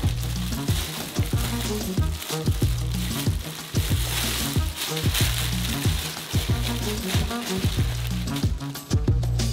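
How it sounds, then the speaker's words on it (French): Constant sizzling with a rhythmic scraping of a spoon stirring milk chocolate melting in a saucepan, close and fairly loud, with no talking. "Et en remuant constamment, faites fondre le chocolat."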